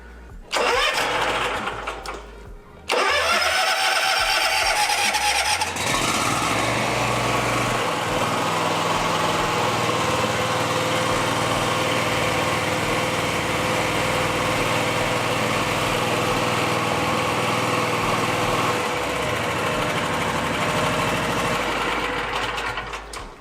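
A serviced lawn mower engine cranks, stumbles briefly, then catches and runs at a steady, loud, buzzing idle for about twenty seconds before easing off.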